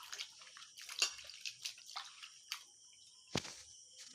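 Pumpkin stalks are rinsed by hand in water, giving faint, close splashes, drips and soft sloshing in uneven bursts with quiet gaps between them.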